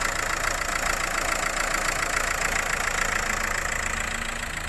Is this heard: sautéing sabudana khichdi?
no